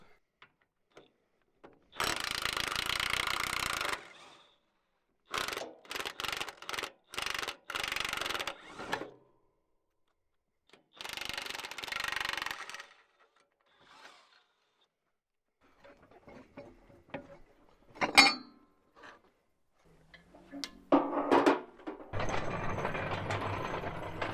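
A ratchet wrench clicks rapidly in bursts while removing bolts during a tractor repair, several separate runs of sharp ratcheting separated by pauses, with clanks of handling toward the end.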